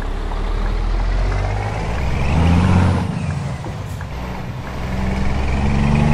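A Scania P360 truck in Euro Truck Simulator 2 pulls away under power with a deep, loud diesel rumble. The engine note swells, eases briefly, then builds again with a hissing air release partway through.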